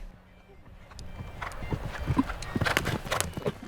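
Young horses' hooves clip-clopping at a regional show jumping championship in Sumy, a scatter of fairly near hoof strikes over an outdoor background hum.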